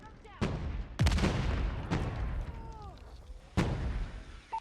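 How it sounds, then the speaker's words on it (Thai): Gunfire piercing a wall in Call of Duty Mobile: several sharp shots and bursts crack at irregular intervals, fairly close, with a voice talking between them. "โอ้โหมันยิงทะลุกำแพงด้วย"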